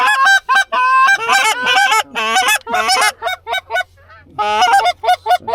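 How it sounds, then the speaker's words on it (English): A flock of geese honking loudly overhead during a North Carolina goose hunt, dense overlapping calls in bursts that continue throughout, with brief gaps between volleys and no talk. "We got geese flying already"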